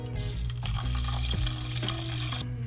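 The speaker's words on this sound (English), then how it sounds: "Add the same quantity of water." Water pours steadily into an Instant Pot holding soaked white rice, a continuous close splashing fill that runs without pause and without talk.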